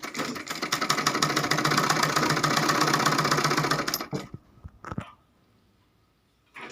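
Sewing machine stitching the folded half-inch hem of a Rajputi lehenga, a steady rapid mechanical whir running for about four seconds before stopping, followed by a few faint handling clicks and brief noises.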